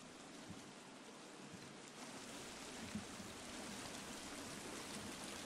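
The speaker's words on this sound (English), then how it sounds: "I hear water." Running water in The Forest video game rushes in a steady, broadband hiss that fills the whole stretch, fairly faint and constant, with no talk over it.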